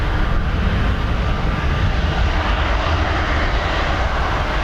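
American Airlines Boeing 777 departing Dublin Airport for Dallas Fort Worth, a loud, continuous low engine roar at close range, steady throughout with no voices.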